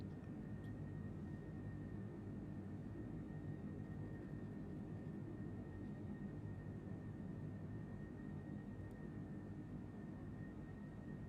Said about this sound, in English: Takeoff power set.